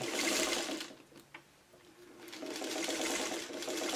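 A sewing machine runs in fast bursts while stitching quilt pieces together, a close, loud whirring hum that stops briefly for a quiet moment with a small click, then starts up again.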